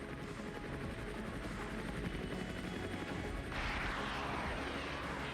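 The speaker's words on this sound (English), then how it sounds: "helicopters are pushing in." Helicopters push in during an Armored Brigade 2 battle, their dense rotor and engine roar building steadily and swelling louder toward the end, with scattered gunfire mixed into the din.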